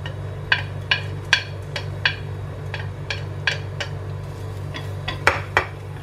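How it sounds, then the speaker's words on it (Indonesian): Dried shrimp and garlic sautéing in a wok, sharp metallic clinks of a spatula striking the pan at irregular intervals over a low steady burner hum, close and clear, with no talking. "Kita tumis-tumis dulu sampai wangi ya."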